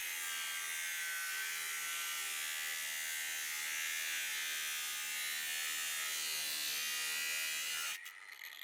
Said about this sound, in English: What I really like about these larger 7-inch grinders is that the weight on these things really help bring those wheels down